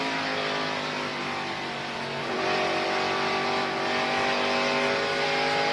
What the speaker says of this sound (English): Now you notice, if you've been listening to Rusty's engine, they're down that back straightaway.